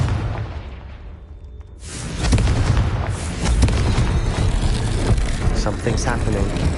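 A Confringo blast spell goes off in the Hogwarts Legacy video game, bursting in loud and sudden about two seconds in. Heavy booming rumble follows and continues under game voices talking.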